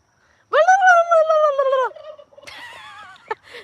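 Male turkey on a farm gobbling loudly close by, a long warbling rattle followed by a shorter, higher gobbling call with a brief sharp note at the end.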